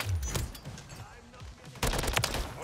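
Gunfire from a sniper and other weapons in the game Call of Duty MW3, a few sharp cracks with a loud burst near the end, under a player's voice.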